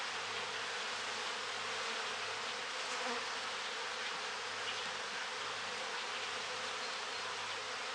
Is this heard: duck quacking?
no